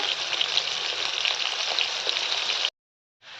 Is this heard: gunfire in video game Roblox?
no